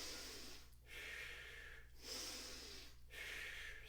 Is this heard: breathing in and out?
yes